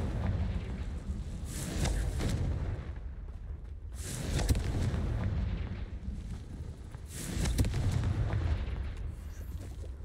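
Repeated Confringo blasting spell explosions in the video game Hogwarts Legacy, three heavy booming bursts a few seconds apart, each with a rumbling tail, loud and full.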